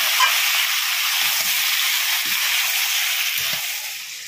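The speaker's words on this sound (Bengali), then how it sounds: "লবণ দিয়ে এবারে মাংসটাকে খুব সুন্দরভাবে কষিয়ে নেব" Salted rooster (cock chicken) meat sautés in a hot pan, a loud continuous hissing sizzle with a few soft stirring knocks underneath, close up and without talk.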